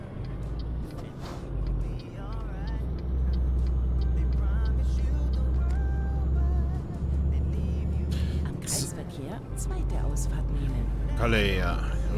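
A truck drives in Euro Truck Simulator 2 near Le Havre. A heavy engine drones steadily at a low pitch throughout, with a brief hiss-like burst near the end, while someone talks over it.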